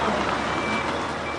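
A truck pulling a heavy trailer sounds steady reversing beeps, a loud continuous electronic tone over engine rumble, with no talking.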